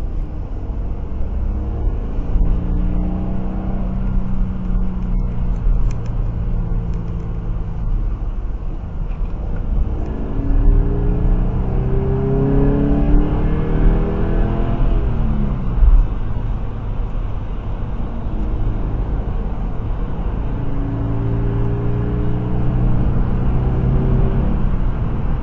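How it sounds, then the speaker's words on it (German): A 200 hp Toyota GT86 accelerates onto the autobahn, its engine note climbing through the gears in rising sweeps over heavy, constant road and wind rumble, loud and close throughout. "Kwiatkowski, das hat er doch extra gemacht, noch so ein Toyota GT86 mitgebracht mit 200 PS"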